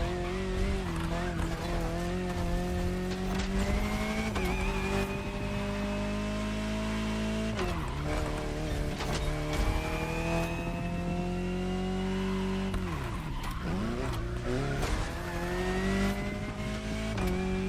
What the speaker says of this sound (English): Jaguar CX-75 concept.